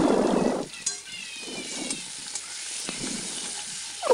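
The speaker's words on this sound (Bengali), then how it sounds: "এবার তেলটা গরম করে এর মধ্যে পেঁয়াজ কুচি, টমেটো কুচি দিয়ে একটু লাল লাল করে ভেজে" Chopped onion and tomato hit hot oil for a fish curry, a loud burst of sizzling at the start that settles into a softer steady hiss with occasional crackles and a stir, no talk.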